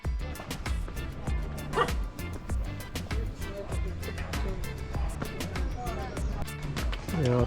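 Several dogs bark and yip in short bursts at Swayambhunath temple in Kathmandu, the barks rising over a dense, busy background with voices and other steady noise throughout.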